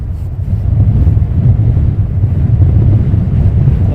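Strong, gusting wind batters the microphone at an airport plane-spotting spot, a loud continuous low roar that swells and dips throughout with no other sound standing out.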